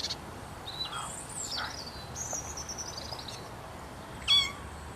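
A kitten meows a few times in a TV commercial, with high, thin cries over light background sound and a brief louder squeak near the end.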